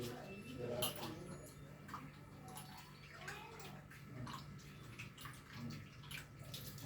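Water sloshes and swishes as flattened rice is stirred and rinsed in a bowl, close up, with a quiet voice speaking intermittently.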